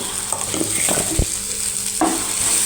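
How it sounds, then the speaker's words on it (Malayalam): Prawn fry stirred in a pan, sizzling steadily throughout with a few scraping, clattering stirs of the spoon near the start and middle, close and fairly loud, no talk. "ഇവിടെ ഒന്ന് ഇളക്കാം."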